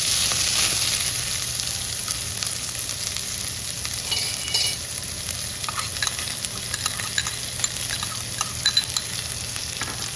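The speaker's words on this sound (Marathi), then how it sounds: "शेंगादाणे झाल्यानंतर कांदे टाकते." Peanuts and cumin frying in oil in a pan as chopped onions go in, with a steady close sizzle throughout and occasional stirring scrapes and crackles, loud and without any talking.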